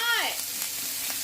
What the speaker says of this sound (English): That one's sizzling, ain't it?